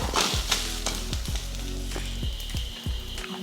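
Beetroot sautés in a pan for chutney, a close, continuous sizzle broken by repeated scraping, stirring strokes of a spatula at a steady rhythm.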